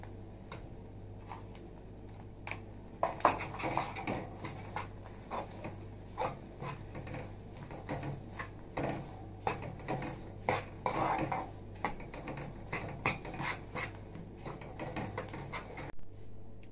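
A spoon stirring a sesame, jaggery and peanut powder ladoo mixture in a pan, producing irregular scraping and knocking against the metal, soft and close with bursts of busier clatter.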